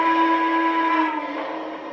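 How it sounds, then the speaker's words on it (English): A Lionel Vision Line Triplex model steam engine sounds its default whistle as one loud, sustained chord-like blast that holds steady, then softens slightly toward the end. "We can't go through all these whistles without comparing this default triplex whistle"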